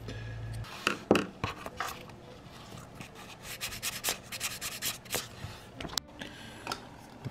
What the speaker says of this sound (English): Just lightly scrape